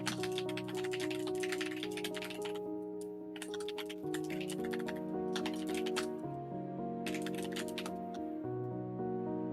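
Computer keyboard typing comes in quick bursts of close, crisp key clicks with short pauses between them, over a soft steady background hum.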